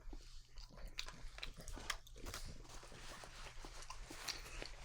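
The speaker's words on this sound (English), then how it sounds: "you're chewing loud" Close, wet chewing and biting of Irish cheese, irregular and crunchy-soft, over a low hum, with no talking.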